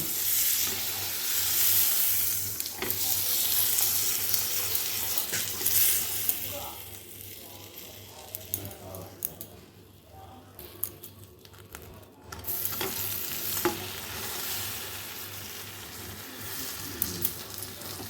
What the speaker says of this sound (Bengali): দুধের সর নেই তাই বাটার দিয়ে করব এবার একটুখানি এটা দিয়ে সেঁকে নেব